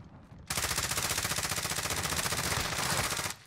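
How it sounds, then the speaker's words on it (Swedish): Rapid automatic gunfire rattles in one continuous burst lasting about three seconds in a Call of Duty Warzone match, dense and steady with no voices over it. "Jag hör skott."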